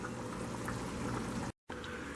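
Mexican hamburger stew (picadillo) simmering in a pot, a steady close bubbling and popping that runs continuously, broken once by a brief moment of silence before it resumes.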